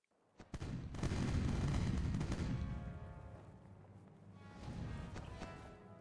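Cannon fire from a ship attacking a fort in the pirate video game Age of Pirates, a few sharp booms followed by a long rumbling roll that fades, then another softer swell of blasts.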